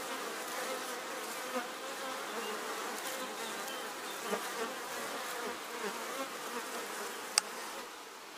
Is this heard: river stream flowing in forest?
no